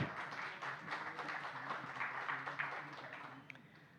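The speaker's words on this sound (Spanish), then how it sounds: "Otro aplauso para él" Audience applause at a Colombian intangible heritage gathering, a faint, moderately dense patter of clapping that fades toward the end.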